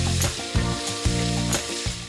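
Shallots, garlic, pepper, chili and lemongrass frying in boiling oil, giving a steady close sizzle broken by regular scraping stirs, with no speech.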